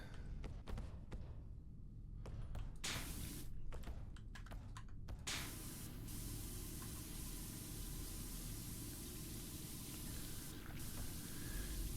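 A pressure washer sprays a vehicle's headlights in PowerWash Simulator: a steady, hissing spray runs throughout, with a burst of rapid tapping clicks during the first few seconds.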